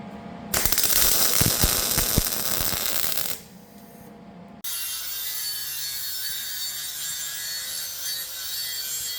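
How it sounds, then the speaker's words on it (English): A part is tack welded to an exhaust manifold during an LS engine and 4L80 swap on an early A-body car, giving a harsh, close crackling burst of about three seconds, then a steady, quieter hum. "We're gonna weld this to that there manifold."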